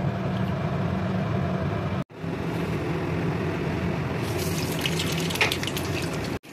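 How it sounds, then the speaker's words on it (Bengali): Tap water runs steadily while bitter gourd, potatoes, pointed gourd and pumpkin are rinsed in a kitchen sink. It is a continuous moderate splashing hiss with a short break midway and a brief clatter near the end. "ধুয়ে নিচ্ছে এগুলো"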